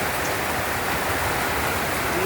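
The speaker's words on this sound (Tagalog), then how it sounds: "ang ulan ay hindi masyadong malakas" Light afternoon rain in the June rainy season, a steady soft broadband hiss of falling drops that stays even and continuous throughout, close and moderately loud with no voices.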